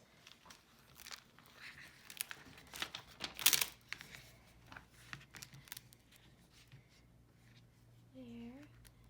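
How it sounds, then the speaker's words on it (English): A thin seam sealer strip is peeled from a homemade Happy Planner: quiet crinkling and papery rustles build to one sharp, close tearing burst, then softer handling, with a brief voice near the end. "So the last step is I have to remove this little sealer for the seam."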